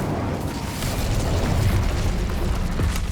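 Incendio fire spell cast in Hogwarts Legacy, a steady roaring whoosh of flame with a dense low rumble that holds at an even loudness for about three seconds.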